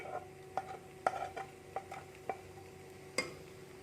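Caramel being stirred into boiling milk in a pot: a soft, constant bubbling hiss broken by light spoon taps and scrapes at irregular intervals, quiet and close.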